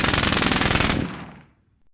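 A machine gun fires in the Squad Battles video game: one loud, close, rapid burst lasting about a second, then its echo fades away.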